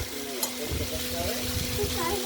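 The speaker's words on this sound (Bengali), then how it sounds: "অনেকটাই ভাজা ভাজা হয়ে এসেছে কুমড়োগুলো।" Thin pumpkin strips fry in mustard oil in a wok, a continuous moderate sizzle with soft stirring movements and brief voices in the background.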